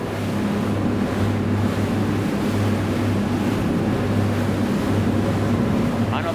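Rough open-sea waves wash and slap around a Salpa Soleil 52 maxi RIB under way, merging with a steady low engine drone and heavy wind buffeting on the microphone, loud and continuous throughout.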